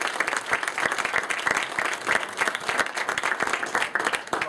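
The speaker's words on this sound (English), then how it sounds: "Please give a round of applause." An audience at a presentation in Page One Bookstore, Albuquerque, claps steadily for several seconds, a dense, even patter of many hands heard up close without voices.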